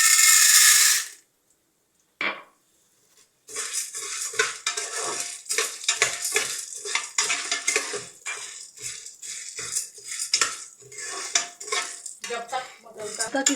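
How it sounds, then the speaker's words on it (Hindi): Corn kernels being stirred with salt in an oiled pot on the stove for homemade popcorn, a steady run of close scraping and rattling against the metal after a brief loud burst and a pause. "जब तक इसका कलर चेंज हो जाएगा ना, उस वक्त तक हमने इसको हिलाते रहना है।"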